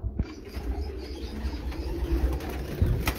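Caged breeder pigeons with blue claws at a Karachi loft coo softly and steadily, with faint chirps and an occasional flutter over continuous low background noise.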